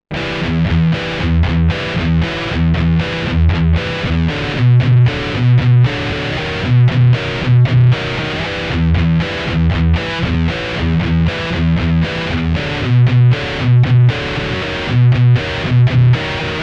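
Heavily distorted electric guitar plays a metal riff, with chugging palm-muted low notes and sustained power-chord stabs in a steady driving rhythm, loud and close, with no voices.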